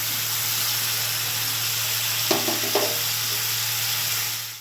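Radish stir-fried in a wok with fried spices and nigella seeds: a steady low frying hiss under a constant hum, with a couple of brief stirring knocks near the middle, fairly faint and without talk.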